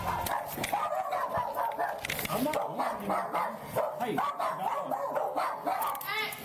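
Several dogs bark and yip in short, irregular bursts indoors, mixed with whimpers, while people talk over them throughout.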